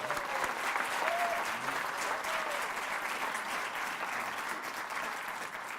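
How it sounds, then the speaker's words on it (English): An audience at a school literacy celebration applauds a teacher, Mrs. Gould, with a full, steady round of clapping that stays even throughout, a few faint voices rising briefly within it. "how about a round of applause for Mrs. Gould?"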